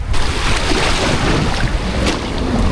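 Sea waves at the seaside wash in a loud, continuous roar of surf, mixed with strong wind buffeting the microphone, with no voices.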